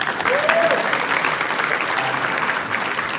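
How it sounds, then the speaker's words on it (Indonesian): A young crowd at a question-and-answer event applauds Anies, with loud, continuous clapping filling the room throughout, joined by a brief whistle and faint voices underneath. "tepuk tangan buat Pak Anies"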